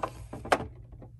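Small drawers of a toy doll furniture piece bought at a flea market are handled, giving a few light sliding knocks and one sharper clack, close and quiet.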